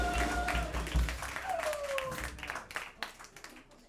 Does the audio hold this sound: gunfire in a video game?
no